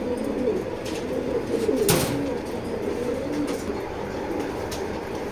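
A large pigeon cooing among other birds, soft and fairly quiet over a steady background hum, with one brief sharp sound partway through.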